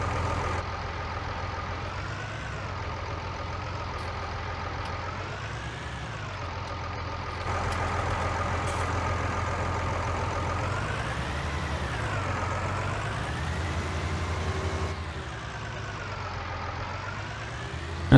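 A tractor engine in Farming Simulator 19 drones steadily from the cab view, its pitch rising and falling in slow waves as it revs, loud and continuous with no talk.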